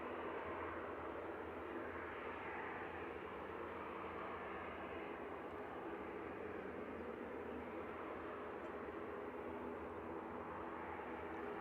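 An SAS Airbus A320neo jet departs Manchester Airport, its engines a steady, broad roar that holds evenly throughout at moderate distance, with no voices.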